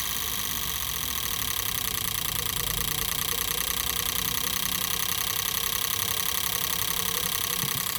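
An Alto 800 engine idling at 800 rpm on a test bench, wired to an ECM tester, gives a steady, close mechanical hum with an even ticking pulse that never changes pace.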